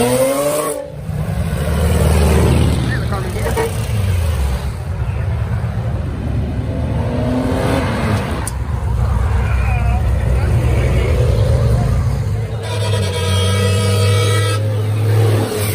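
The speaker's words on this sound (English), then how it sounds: "There goes the street legal race car." Modified street-legal race car on air ride revving its engine outdoors at a car show, a loud low rumble swelling and holding throughout with people talking over it.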